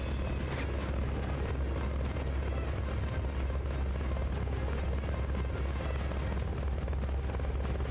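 A helicopter in Metal Gear Solid: Peace Walker drones continuously, a dense, rumbling rotor thrum with rapid beating, steady and fairly close throughout.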